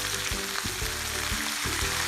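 Beef macaroni kebabs sizzle in a hot pan while a spoon stirs them, a dense loud frying hiss broken by several scraping strokes, with no voices.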